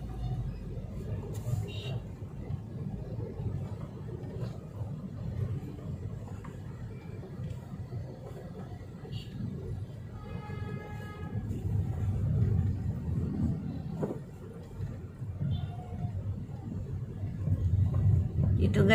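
Street traffic on a busy road in Dapitan near a market, with roadwork nearby: a steady low rumble of passing cars and vehicles, swelling louder toward the end, with scattered horn-like tones over the continuous engine noise.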